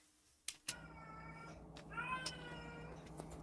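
A cat in heat meows in several drawn-out, wavering cries, close by, with a faint steady hum underneath and a couple of sharp clicks.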